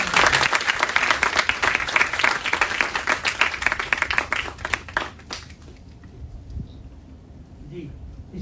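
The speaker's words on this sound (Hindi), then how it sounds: "सभी जोरदार तालियों से" Loud applause from an audience at a medical institute inauguration, with strong rhythmic clapping for about five seconds that then fades out, followed by quieter room sounds and a brief voice.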